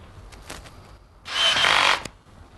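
A screw is driven in during assembly of a Red Sea MAX S-Line aquarium, heard as a brief, steady mechanical whir lasting under a second amid faint ticks and handling noise, with no talk.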